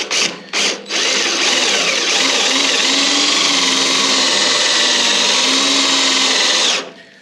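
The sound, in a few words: drilling through metal with a drill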